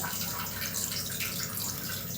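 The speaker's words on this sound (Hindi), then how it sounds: "ये लिए पानी, इसको डालते हैं इसमें" Water poured into a pot to make tea at home, a steady close splashing gush that runs through without a break and without talk.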